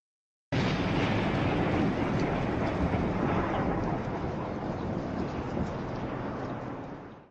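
Slowed-down thunder from several rapid lightning strikes, one of which hit a tree, rolls as a loud, deep, continuous rumble. It starts abruptly and holds for about seven seconds with no voices.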